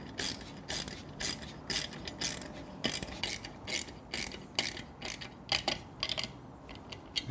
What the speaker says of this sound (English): with a 4mm Allen and a 10mm socket, you can tighten these down